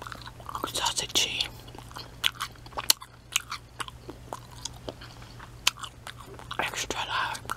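Close-miked biting and chewing of a big beef hot dog, with wet, crunchy bites and squishy chewing repeating loudly and irregularly, sometimes with faint breathy whispering.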